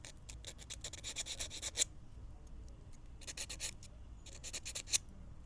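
Small miniature model piece sanded by hand in short rasping strokes, three quick clusters of soft scratching, close and quiet.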